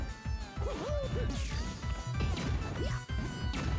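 A forward smash lands with a sharp, loud crash in a Super Smash Bros. match between Mario and R.O.B., set among busy game sound effects and a steady music bed.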